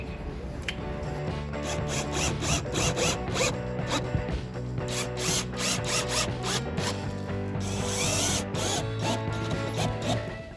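Screws are driven into wooden box sides, a continuous, loud, close whirring and ratcheting with grinding bursts and a few brief pauses, no voices.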